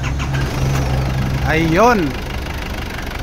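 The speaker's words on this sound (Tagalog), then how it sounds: "Okay, engine start." An Isuzu Trooper's 4JX1 diesel engine cranks briefly and catches, then settles into a steady, loud idle close by, with someone talking over it.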